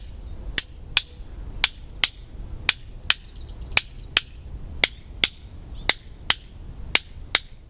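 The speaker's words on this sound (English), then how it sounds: "And I have in my hand a clapstick," A split elderberry wood clapstick is struck in a steady rhythm, about fifteen sharp, dry wooden claps spaced roughly half a second apart, close and crisp with faint room noise between hits.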